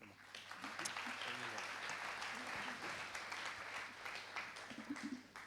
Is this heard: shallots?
no